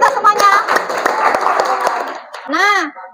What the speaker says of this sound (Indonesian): Kita kasih tepuk tangan buat kita semuanya.